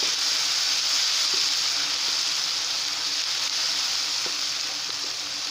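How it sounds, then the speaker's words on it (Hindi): Continuous bright sizzling of ginger-garlic paste frying in a hot pan, with occasional soft stirring clicks, close and steady throughout. "अदरक लहसुन का पेस्ट शामिल करके 2 से 3 मिनट अच्छे से भुनाई करते हैं"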